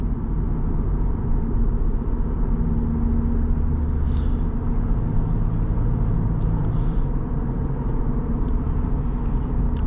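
Steady low road rumble and tire drone fill the cabin of a 2012 Lexus IS250 AWD on the move, a continuous even hum with no voices.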